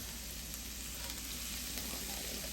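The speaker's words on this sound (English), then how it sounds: "we're going to take that and we're going to let it saute for" Squash and onions sauté in a pan, a constant soft sizzling hiss that stays even throughout, with no voices over it.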